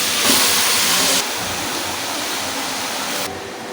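Malabar spinach dropped into a pan of frying hilsa fish heads sets off a loud, close sizzle that flares at the start and then settles into a steady hiss, easing off near the end.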